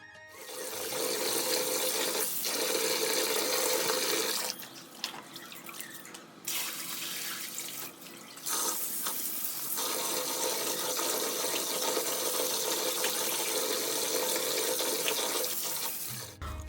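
Wheat grains washed in running water, a loud, close, continuous rush of water with a few brief dips and pauses where the flow drops, sloshing on throughout with no talking.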